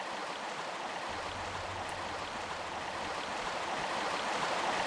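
Running water of a stream pours over rocks in the Lost Valley of the original Tomb Raider game, a steady, close, full rushing wash with a low hum briefly underneath.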